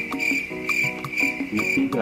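Frogs croak in a rhythmic chorus of repeated pulsing calls over a steady high ringing tone, fairly close and continuous, with no voices.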